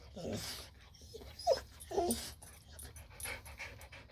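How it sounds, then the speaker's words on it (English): A dog panting and whimpering in a workshop, faint high whines and yips between soft breathy pants, with a person speaking quietly nearby. "Sorry, my dog's freaking out on me."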